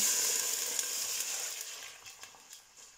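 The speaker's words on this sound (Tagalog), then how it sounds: "Ngayon ilagay na natin yung ating sabaw" Beef broth hits a hot pan with carrots and vegetables in it, raising a steady, close hiss that fades slowly over about three seconds, with a few soft knocks near the end.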